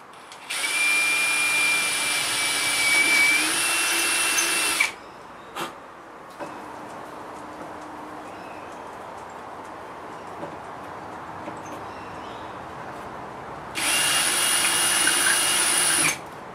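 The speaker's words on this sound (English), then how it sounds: "He says as he drills through the glass table." A power drill whines loudly through a glass table in two sustained bursts, separated by a long quieter stretch with a few faint knocks.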